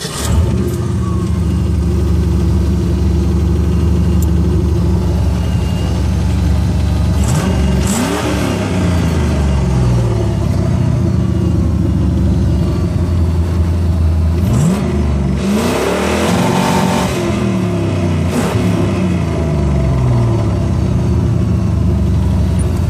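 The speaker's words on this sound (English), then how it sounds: "Engine up to temp." A warmed-up car engine idles with a steady low rumble, then revs several times in sharp rising and falling bursts, loud and close, with crackling pops as it breaks up.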